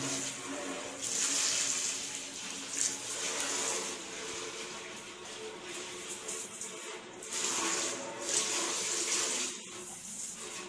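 Running water splashes and gushes steadily, surging louder in stretches as a fish tank is rinsed under the flow, close to the microphone.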